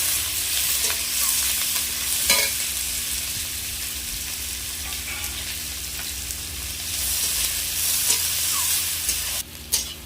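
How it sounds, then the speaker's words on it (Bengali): Whole cumin, five-spice seeds, chopped onion and slit green chillies sizzle steadily in hot oil in a wok, a close, continuous frying hiss with occasional scrapes of stirring and no talk. "কড়াইতে দিয়ে দেবো গোটা জিরে, গোটা পাঁচফোড়ন, পেঁয়াজ কুচনো, লঙ্কা চেরা দিয়ে দেবো"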